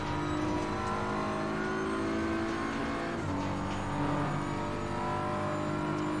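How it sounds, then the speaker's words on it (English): The BMW M4 GT3 race car engine in the Assetto Corsa Competizione racing game roars loudly and continuously, revving up and down through gear changes with steady tire noise and no talk over it. "the BMW sounds powerful, but generally speaking, pretty, you know, boring"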